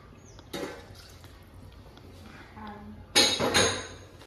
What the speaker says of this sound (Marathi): आता मी अजून 1 ग्लास पाणी टाकते.